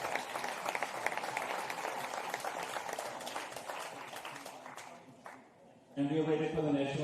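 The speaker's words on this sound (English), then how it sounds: "A big applause to the referees." In the arena before the Switzerland–Finland powerchair hockey final, the crowd applauds the referees. The clapping is steady and distant, then fades, and a clear voice comes in near the end.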